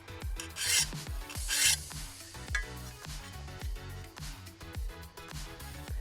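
Lawn mower blade sharpened with a hand file: a close, loud rhythmic rasping, about a dozen steady back-and-forth strokes grinding on metal, alone with no talk.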